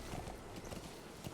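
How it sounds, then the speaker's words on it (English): Horse hooves clip-clopping in the video game Metal Gear Solid V: The Phantom Pain, a steady walking rhythm of soft thuds under dense game ambience. "I'm on a horsey."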